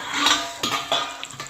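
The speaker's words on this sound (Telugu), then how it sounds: "మూత ఓపెన్ చేసి చూసుకుందామండి" A metal lid clanks and scrapes as it is lifted off a pot of ridge gourd masala curry, with several close, bright clinks of cookware in quick succession.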